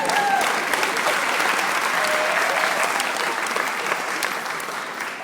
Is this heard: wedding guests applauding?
yes